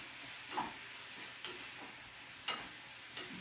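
Food simmering in a pan over a campfire-style cook setup, a faint, soft sizzle with a few light stirring clicks and taps spaced a second or so apart, heard alone without talk.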